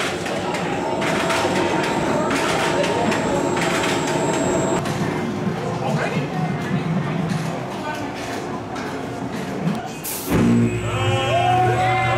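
Rumbling, clattering mechanical noise of a ride train pulling away under continuous crowd chatter, with a brief squeal near the end.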